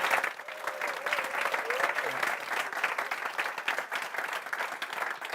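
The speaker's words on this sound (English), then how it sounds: "I would like to ask you as an audience to give a big round of applause for Gijs." An audience at a digital design school showcase gives dense, sustained applause, with steady clapping and faint crowd voices underneath throughout.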